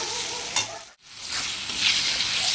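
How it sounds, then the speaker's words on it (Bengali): Vegetables seasoned with turmeric, ground coriander-cumin, salt and green chilli sizzle steadily in a pan, with a brief lull as they are stirred, close and continuous without voices. "সবজিগুলো ভাজা ভাজা হয়ে গেছে"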